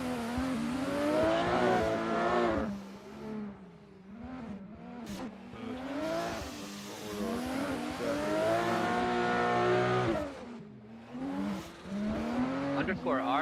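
A sim racing game car engine drones and revs continuously at close range, pitch rising and dropping with shifts and corners, in a competition run at Englishtown, with a commentator talking over it.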